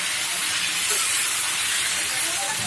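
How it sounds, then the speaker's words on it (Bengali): Pointed gourd and potatoes hit a hot frying pan for an egg curry, giving a steady, loud hissing sizzle that runs without a break from start to finish. "এখন আমি পটল আলুগুলো দিয়ে দিচ্ছি।"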